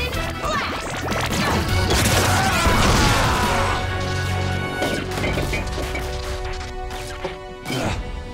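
In a Power Rangers Beast Morphers fight, the Beast X Cannon fires with a loud crashing blast and an explosive impact, followed by rumbling debris and scattered hits that fade out.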